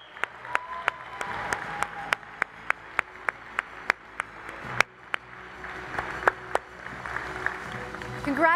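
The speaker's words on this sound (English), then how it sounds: "we're going to clap while you sit down" Rhythmic clapping from a conference crowd at a recovery event, sharp evenly spaced claps beating in unison for several seconds before a looser patch of cheering and clapping, with voices mixed in.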